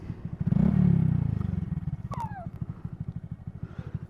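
A motorcycle engine runs close by with a fast, steady pulsing throb; it swells in a strong rev near the start, then settles into a rhythmic idle-like putter, with a brief squeal or whine passing over it midway.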